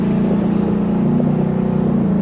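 A 2024 Ford Mustang GT V8 rumbles through its Ford Performance exhaust, a steady, deep, loud droning burble held at an even pitch with no voices over it.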